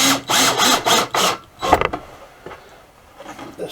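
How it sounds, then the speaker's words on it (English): A power driver runs screws into a speaker baffle for a 15-inch driver, giving several loud, close bursts of whirring and grinding separated by short pauses, then fainter handling knocks and clicks. "I'm going to put a couple of screws in here just for demonstration purposes only."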